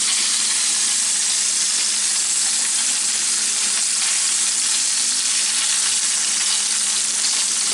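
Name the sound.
griot frying in hot oil in a pan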